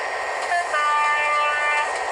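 A train in the railway game Trainz Driver rolls along with a steady rumbling hum, topped by a brief tonal horn-like note midway, with no voices.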